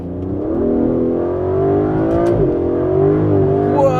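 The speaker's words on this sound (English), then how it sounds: "Totally broke the tires loose there" An Aston Martin DB11 with a V12 twin-turbo engine pulling away hard, a loud, close, steady roar rising in pitch as its tires break loose.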